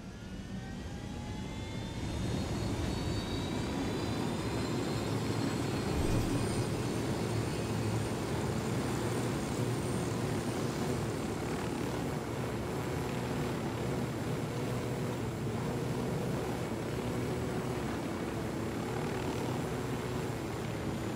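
A helicopter flies in during the open-world shooter game Ghost Recon Wildlands, a loud sustained engine and rotor roar with rising whining tones, steady and close for about twenty seconds with no talking.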